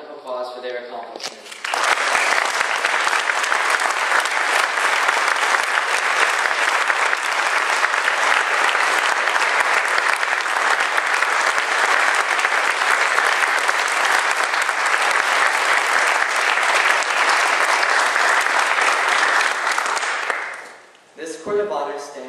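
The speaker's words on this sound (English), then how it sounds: "Please give Kyle and Nikola a round of applause for their accomplishment" Round of applause from the audience at a Scout Court of Honor, loud, sustained clapping that begins abruptly after brief talk, holds steady for nearly twenty seconds, then fades as a voice returns.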